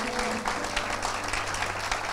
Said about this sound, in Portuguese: uma salva de palmas à pastora de vocês